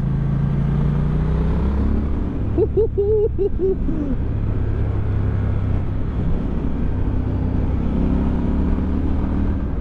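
A Triumph Scrambler 1200XE motorcycle rides along a road, a steady low engine drone with heavy wind rush throughout and a brief whine-like tonal burst partway through.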